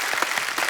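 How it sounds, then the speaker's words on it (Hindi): A burst of enthusiastic applause from a TV comedy show studio audience, dense and steady clapping throughout the short moment with no voices on top. "एक बार जोरदार तालियां हो जाए"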